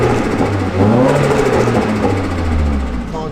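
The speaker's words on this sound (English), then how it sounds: "All the Rice Krispies and the turbo noises on this, especially with this new Garrett turbo, sounds pretty sick." Nissan S15 with a big Garrett turbo accelerating, a loud close engine drone climbing and settling with whirring turbo noise and crackles over it.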